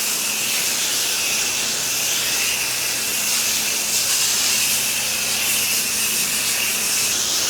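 Cleaning solution is sprayed in a quick coat across a pool deck floor, a steady close hiss of spray that runs continuously without pause and without talk.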